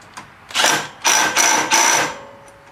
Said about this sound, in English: And I always use electric impact on this.